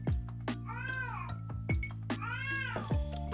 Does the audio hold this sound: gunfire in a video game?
no